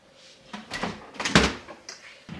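Refrigerator drawer slid open in a home kitchen fridge, a few soft scraping and rattling bumps building to one louder thud near the middle, close and fairly quiet with no talk.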